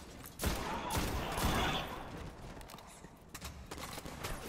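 Gunfire in the video game Destiny cracks out in a few faint, quick bursts over a low background, with scattered sharp shots toward the end.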